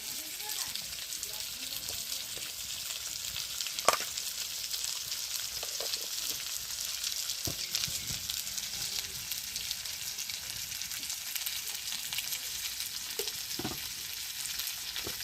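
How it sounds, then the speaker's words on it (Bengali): Snakehead fish from a village pond frying in oil in a pan in a rural Sundarbans kitchen, giving a steady close hiss and sizzle with scattered sharp crackles and a few stirring knocks. "এই যে একটু ভেজে নিয়ে লবণটা দিয়ে দিচ্ছি"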